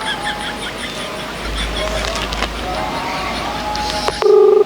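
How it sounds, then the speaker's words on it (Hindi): A phone call is dialed over a cluttered background of speech babble and rumble; short tonal beeps sound near the end, then a steady ringback-like tone. A noisy hot room in a comedy sketch, with people talking around it. "लगा रहा हूँ ना फोन।"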